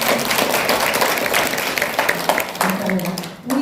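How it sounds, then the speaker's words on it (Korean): Audience applause at a manifesto awards ceremony and forum, a loud, dense burst of clapping that tapers off near the end, with a voice briefly audible underneath. "여러분 뜨거운 박수 한번 부탁드리겠습니다."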